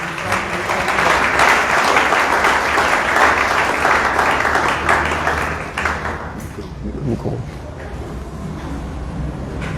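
A church congregation bursts into loud, sustained applause and cheering during a French-language worship service, the clapping dense for several seconds before thinning and fading out.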